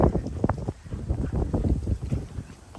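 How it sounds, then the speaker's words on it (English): Breezy wind gusts buffet the microphone outdoors beside a driveway and boxwood shrubs, a steady rough low rumble swelling and easing throughout with no one talking. "It's breezy today."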